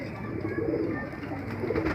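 A pigeon from the Jaora Nawab's bloodline, called chitte, coos up close in a short burst of low, throaty warbling notes over a faint room hum.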